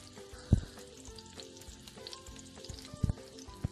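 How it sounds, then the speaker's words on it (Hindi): A small onion and a few garlic cloves sauté in oil for a pizza topping, with a steady close sizzle and two soft stirring knocks near the start and end. "और ऑयल के अंदर हमने एक छोटा सा प्याज अगर छोटे साइज की प्याज है तो आधी ले लीजिएगा और चंद जवे लहसुन के लेके उनको हल्का सा हमने सौते करना है"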